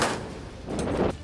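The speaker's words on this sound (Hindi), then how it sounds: "अभ्यास के दौरान जंगी जहाज में लगी तोप से गोले" Booming cannon and machine gun fire from a Chinese warship during a naval drill at sea, aimed at floating targets: two loud, rumbling bursts heard alone without voices.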